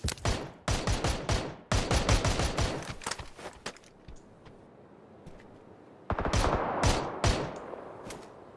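Rapid bursts of gunfire crack out in tight volleys, loud and close, with a pause of quieter rumble and scattered distant pops before another burst of shots.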